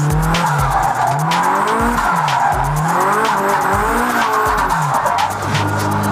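A drift car slides through corners with constant loud tire squeal and skidding, its engine revving up and down in repeated surges at close range. The noise runs without a break and no one talks.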